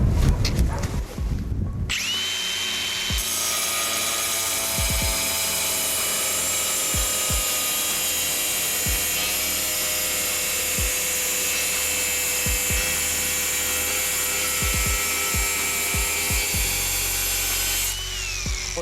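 A diamond cutting disc spins at 8500 rpm, slicing through material with a loud, steady high-pitched whine and grinding that runs nearly unbroken for most of the span, rising after a brief quieter start and easing off at the end.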